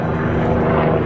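A helicopter or aircraft drones loudly and steadily overhead, with a rapid throbbing rotor beat in the engine roar.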